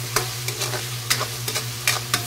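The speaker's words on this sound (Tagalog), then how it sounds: "Yung kamatis guys, halu-haluin muna natin" A spoon scrapes and stirs tomatoes in a sizzling frying pan, with a steady frying hiss and irregular scraping strokes.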